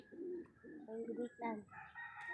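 Soft pigeon coos repeat a few times close by, low and throaty, with a brief brighter call at the end.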